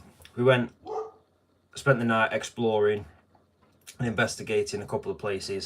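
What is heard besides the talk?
dog barking at someone in the street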